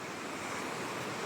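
Sea waves washing onto a seaside shore as a typhoon approaches, heard as a continuous broad surf roar with some wind noise, steady and alone with no voices.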